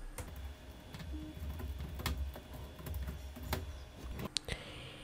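Someone types a webmail email address on a computer keyboard, making quick irregular key clicks up close, with a couple of sharper taps near the end and no talking.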